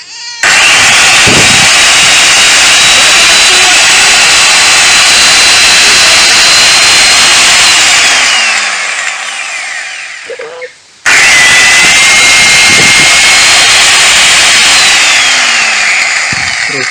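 A repaired angle grinder is switched on and whines at high speed close by, running for about eight seconds, winding down and cutting out, then starting again and running steadily to the end.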